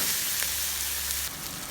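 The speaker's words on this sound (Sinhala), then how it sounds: "මේක පොඩ්ඩක් හොඳට සෝලෙන්න ෆ්‍රයිස් කරගන්න." Ginger garlic paste fries in a pan as the base for a Kerala-style egg curry, giving a close, steady sizzle with no talking.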